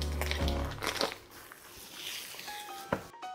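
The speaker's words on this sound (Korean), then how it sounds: "비닐부터 뜯어야죠." Crinkly plastic packaging being torn and pulled open up close from a block of bone-in beef rib meat, with crackling rustles in bursts and a short sharp rip near the end.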